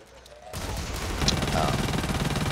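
Rapid SMG fire in the shooter game Blacklight: Retribution, a dense continuous burst starting after a brief quiet lead-in, loud and close with speech-like game sounds mixed in.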